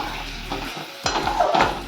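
Potato and tomato curry being stirred and sautéed in a pan at home, a steady sizzle with scraping spatula strokes that grow louder in the second half, no talking.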